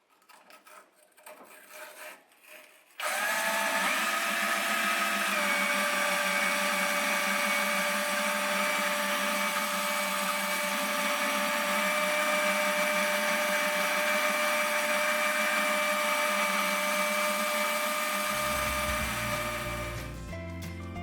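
An engine cylinder sleeve from a Farm Boy hit and miss engine is honed with a power hone, a loud, continuous abrasive grinding whir running steadily for most of the span after a few quieter handling sounds.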